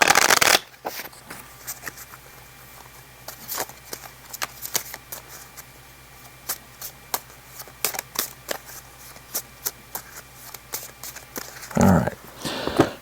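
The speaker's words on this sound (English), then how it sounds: "And then I have to shuffle my deck." Cards from an Arkham Horror: The Circle Undone deck are shuffled close by, giving a long run of quick, crisp riffling bursts and clicks, with a heavier shuffle near the end and no talk.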